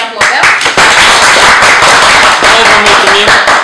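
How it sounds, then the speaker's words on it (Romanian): A group gives a burst of close, loud applause, dense clapping that fills the whole stretch. Voices mingle in the background. "Haideți să ne aplaudăm!"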